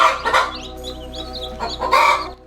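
Backyard chickens cluck and squawk nearby in a few loud bursts, with softer chatter from other hens between them.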